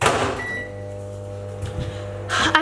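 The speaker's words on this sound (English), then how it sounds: "I am now going to put it in the microwave for a minute" A microwave oven hums steadily with a low, constant drone, framed by clunks of its door or buttons at the start and end, close and clear with no talking.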